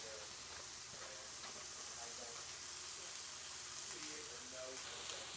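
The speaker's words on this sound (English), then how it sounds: "let's fry up our meat first" A pound of ground beef frying in a pan gives a steady, quiet sizzle and hiss throughout, with faint stirring and clinks over a low background hum.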